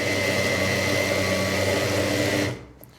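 A blender whirring at low speed while blending burger sauce, with a steady motor drone that holds for over two seconds and then cuts off abruptly into near silence.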